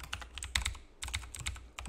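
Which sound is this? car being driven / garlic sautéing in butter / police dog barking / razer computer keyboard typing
razer computer keyboard typing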